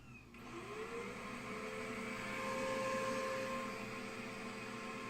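An old vacuum cleaner runs steadily with its brush roll spinning and no suction, a constant whirring motor drone with a rising whine as it spins up, close and loud, no talking.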